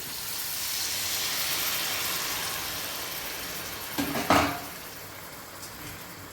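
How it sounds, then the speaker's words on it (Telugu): Tamarind broth is poured into a simmering fish curry pan, a brief splash and hiss rising over a steady background sizzle and rush, close and moderately loud, with no voices. "ఇప్పుడు పులుసు పోసుకోవాలి"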